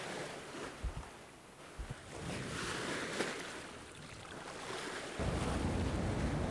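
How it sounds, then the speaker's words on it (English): A 52-foot Island Packet sailboat under way at sea, with steady rushing wind and wash of water against the hull, growing louder near the end, with no voices. "We're traveling south to the sun on a 52-foot island packet sailboat."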